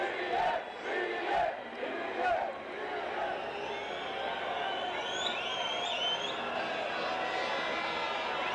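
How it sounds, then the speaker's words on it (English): A large Spanish crowd at the 1996 Jerez motorcycle Grand Prix chants rhythmically, then settles into a roaring, distant babble of voices with whistles rising above it. "Still chanting Crivier's name,"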